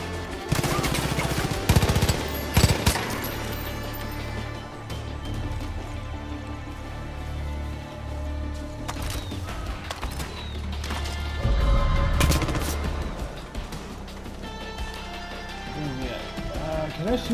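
Rapid automatic gunfire in the video game Far Cry 5 rattles in repeated loud bursts over a busy game soundscape of crashes and clatter, a voice talking over parts of it.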